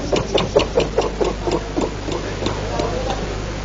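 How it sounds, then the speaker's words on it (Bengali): A river motorboat's engine is cranked to start, producing a rapid, rhythmic series of chugging knocks that pulse steadily and fairly loudly, then weaken slightly toward the end. "শুনুন সেই ইঞ্জিনের শব্দটি।"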